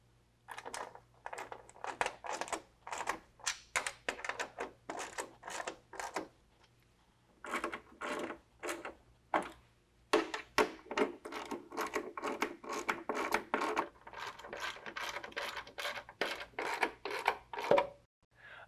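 A 13 mm wrench tightens running board brackets against a pickup's rocker panel, producing a long series of rapid, close ratcheting rasps in short bursts with brief pauses between them.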